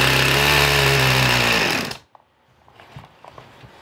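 A Husqvarna 50 Rancher chainsaw runs on full choke with a loud, close, buzzing two-stroke drone for about two seconds, then cuts out abruptly, leaving quiet handling noises.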